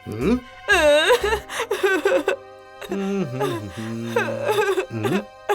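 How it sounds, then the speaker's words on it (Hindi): A high, wailing cry of a cartoon character rises and falls in sobbing bursts, alternating with lower whimpering tones, close and fairly loud. "अरे कोई रो रहा है।"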